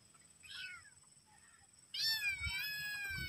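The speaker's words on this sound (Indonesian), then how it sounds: "Kedengaran ada kucing ngeong-ngeong" A kitten meows outdoors in a garden, first a faint short mew, then a louder, sustained, wavering cry near the end, close and clear with no talking.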